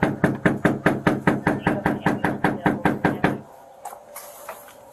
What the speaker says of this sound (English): this how you knock when you go to people's house